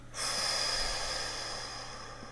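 A long, steady exhale of breath during a group breathing exercise, a soft broadband airy rush that swells quickly and holds for about two seconds with no talk.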